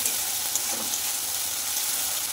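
Spice paste of ginger and chilli frying in a pan for a Bengali fish curry with potatoes, a continuous bright sizzle that holds steady and close throughout with no talk.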